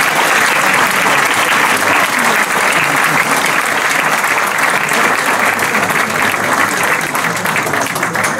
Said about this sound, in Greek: Ένα θερμό χειροκρότημα για όλους τους ψηφίους.